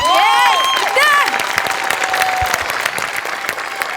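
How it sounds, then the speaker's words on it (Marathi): Applause from a comedy show audience, a dense crowd clapping loudly and continuously throughout, with whistle-like tones and some cheering mixed in at the start. "प्रथमेश तुझ्यासाठी जोरदार टाळ्या."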